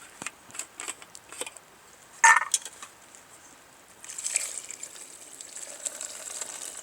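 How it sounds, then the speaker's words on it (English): Water pours into a pot for a stew on an outdoor camping trip, a steady gushing stream starting partway through after some light clinks and handling sounds, close by. "And we'll pour water in."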